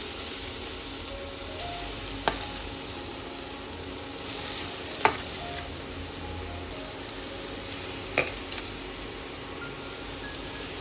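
Grated carrot frying in hot ghee for gajar halwa, a steady moderate sizzle throughout, punctuated by three sharp knocks of a spoon against the pan.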